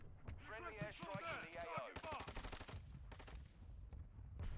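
Nearby video game gunfire in a mini battle royale match, a fast machine-gun burst of sharp repeated shots following some talk and a heavy blast, then fading off.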